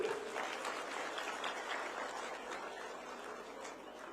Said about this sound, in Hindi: अब तो ताली बजाइए जोर से